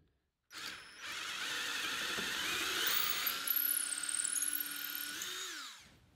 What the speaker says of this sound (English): The hole in the cross braces needs to be drilled wider at 1/4 inch